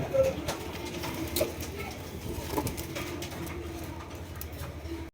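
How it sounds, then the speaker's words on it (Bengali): A pair of racer pigeons coo softly and repeatedly close by, with a faint murmur of other birds and low background noise underneath. "রয়েছে একজোড়া রেসার কবুতর আপনারা দেখতে পাচ্ছেন"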